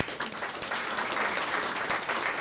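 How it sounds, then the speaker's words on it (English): Audience applause at a community event, steady dense clapping from a crowd that carries on at even loudness throughout, with no voices over it. "let's give them a round of applause"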